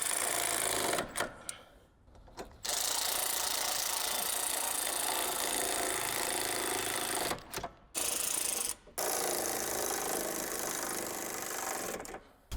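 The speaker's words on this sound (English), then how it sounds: "we will just tighten these up, snug them in" A ratchet tightens 13 mm bolts on a Ford Focus ST crash bar and radiator support, producing a dense, close mechanical rattle in sustained bursts broken by a few brief pauses.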